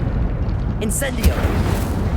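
A fiery Incendio spell bursts in Hogwarts Legacy, a single whooshing blast over a steady rumbling game backdrop, with a voice calling out during the clip.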